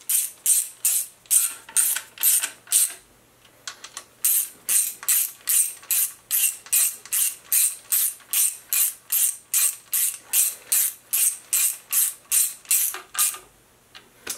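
Ratchet wrench tightening bolts on an Oldsmobile small block engine's timing cover, a steady run of loud, close clicking strokes repeating rhythmically, with a brief pause near the start and again near the end.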